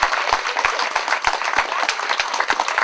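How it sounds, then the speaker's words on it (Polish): Crowd clapping in a hall during a boxing exhibition fight, with loud, steady applause mixed with dense rapid claps and sharp individual hand slaps, sustained throughout without talk. "Wielkie brawa, drodzy Państwo."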